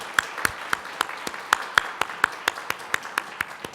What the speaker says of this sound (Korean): 우리 한 번 더 큰 박수